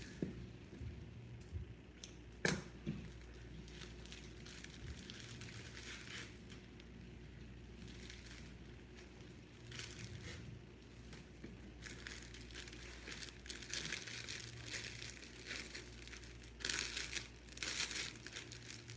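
Cellophane crinkles and crackles as it is gathered into a fan shape for a gift basket, bursts of close crisp rustling coming and going over nearly twenty seconds, with no speech.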